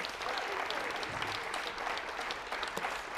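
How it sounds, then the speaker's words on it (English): Audience hand clapping at a charity cooking demonstration, a steady patter of many hands that is fairly faint and even throughout. "give them a hand clap."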